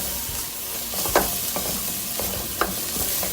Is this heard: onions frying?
yes